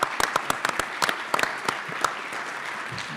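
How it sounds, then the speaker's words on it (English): Scattered audience clapping at a university football coach's introductory press conference, a handful of distinct sharp claps in the first two seconds thinning out to silence, moderately close. "Give them a big round of applause"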